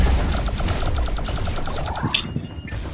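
Rapid automatic gunfire from a video game, a fast even burst of shots lasting about two seconds, then an abrupt stop.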